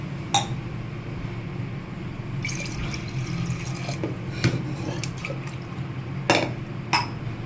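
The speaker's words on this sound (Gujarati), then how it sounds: "હવે આપણે એમાં દોઢ ગ્લાસ જેટલું પાણી એડ કરશું" Water splashes and trickles into a container of washed mixed lentils, with a few sharp clinks of metal or glass over a steady low background hum.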